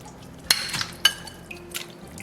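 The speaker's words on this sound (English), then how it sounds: "Add the chicken bones to the water" Chicken bones dropped into a pot of water for broth: a few distinct splashing plops and hard clinks against the pot, spaced about half a second apart, followed by faint dripping in a quiet kitchen.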